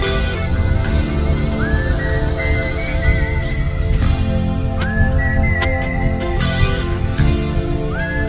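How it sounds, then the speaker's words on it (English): The melodic whistled tune from a song plays loudly over the band's recording, with repeated rising, sliding whistled phrases above sustained guitar and backing music. "And that whistling is good."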